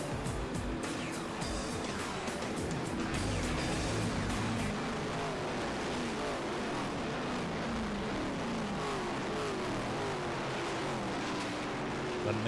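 Stock cars in a NASCAR field at California Speedway before the 2007 Auto Club 500 roar continuously as the pack rolls through, a dense steady engine wash with passing swells and faint talk underneath.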